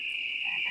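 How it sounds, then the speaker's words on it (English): A short frog croak alert plays alone, a brief buzzy tonal croak from the Budweiser Frogs sound, steady and fairly quiet. "thank you very much for redeeming the Budweiser Frogs"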